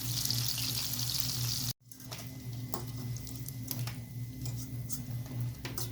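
Breadcrumb-coated onion snack frying in hot oil, a soft continuous sizzle with a low steady hum and scattered light ticks, faint and close, interrupted by a brief dropout.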